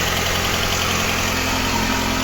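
A warmed-up VAZ 2108-family car engine, a 1.5 fitted with a 1.6 1118 cylinder head and running on gas, idles steadily with its cooling fan switched on, a dense even hum and whir with no talking.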